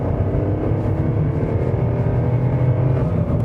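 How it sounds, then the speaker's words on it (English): A Volkswagen Polo 1.2 three-cylinder petrol engine pulls under acceleration, a loud, gruff, slightly rattly drone heard from inside the car. "if I accelerate, you'll hear that it makes a noise like a diesel almost"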